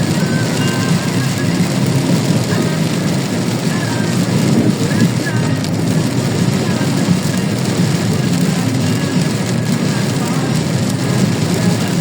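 Dense, steady downpour roars without a break, heavy rain pounding a surface close by, with strong wind noise and no clear voices, on a road in Bocaue.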